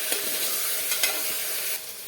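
Spices and masala stirred and fried in a pan for an onion-potato curry, a continuous soft sizzle broken by a few sharp scraping strokes of the spoon, close and alone.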